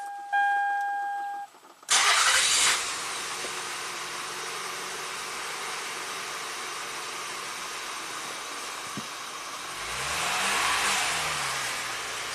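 A Toyota with a flashing check engine light is started after a beeping chime, catching with a loud burst, then idling steadily before the engine is revved and the revs climb and fall back near the end.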